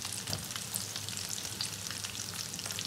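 Fish chops fry in hot oil with a constant dense crackling sizzle, quiet and even, with scattered sharper pops and no voices.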